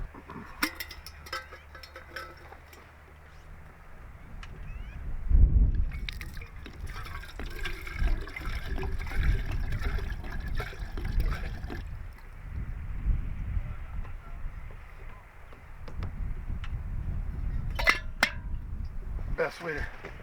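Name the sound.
cleaning cast iron pans with boiling water and scraping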